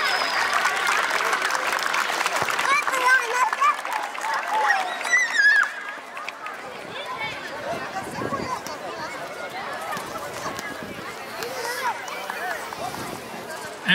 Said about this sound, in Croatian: Velikim pljeskom pozdravimo članove Kulturno-umjetničkog društva Ljiljan.